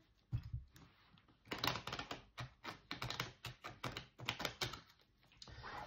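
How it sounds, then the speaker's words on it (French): Oracle cards being shuffled by hand, a quick series of crisp riffling snaps and soft slaps in bursts, close and fairly quiet, with no talking. "On va mélanger un peu les cartes quand même."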